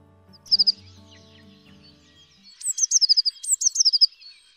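Tit song, a few high clear notes followed by a quick run of lower repeated notes forming a trill, close and distinct over faint low background rumble.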